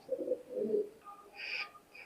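Golden female pigeons in a loft coo softly at close range, a couple of low throaty coos followed by a few brief higher chirps, with no talking over them.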